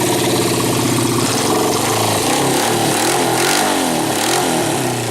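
A faulty motorcycle engine revs loudly and close by, its pitch rising and falling as the throttle is opened, with a rough idle between bursts.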